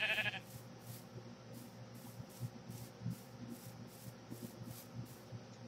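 Faint sheep bleats from a modded Minecraft game, a few brief quiet calls over a low background of soft rubbing and in-game ambience, with no talking.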